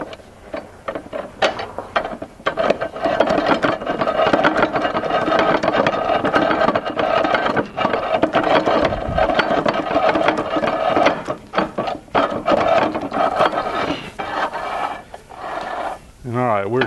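Hand crank turning to thread screws down on the outfeed pressure plate of a J. A. Vance planer/matcher, a continuous close mechanical whirring with ratcheting clicks throughout, someone talking over it at times.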